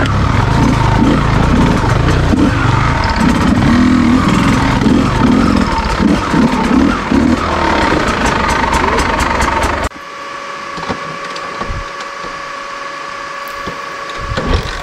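Honda XR600 motorcycle engine running on a rough off-road hill climb, a steady loud rumble that continues to the end and drops in level partway through.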